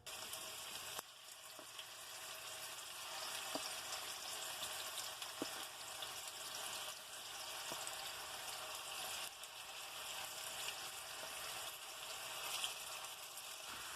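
Thai meatballs frying in a pan give a steady, even sizzle and crackle throughout, with a few faint clicks and taps of utensils, no talking.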